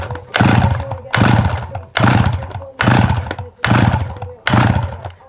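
A 1988 Kawasaki KX80 dirt bike is kicked over repeatedly, giving six rhythmic bursts of raspy two-stroke cranking, loud and close, with brief pauses between attempts and no firing into a steady run.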